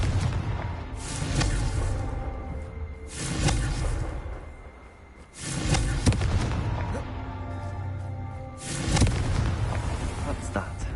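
Repeated blasting-spell explosions in Hogwarts Legacy, four heavy booming bursts at regular intervals, loud and close, with a voice talking between them.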